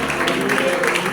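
Congregation applauding during a Spanish-language church sermon on the Book of Revelation, a steady wash of clapping held at a constant level for about a second with voices mixed in.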